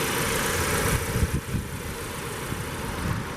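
A 2019 Audi Q3 Premium Quattro with a 2.0 TFSI turbo four-cylinder idles steadily with a smooth, even hum close by. A brief rustle or bump is heard partway through, and no one speaks.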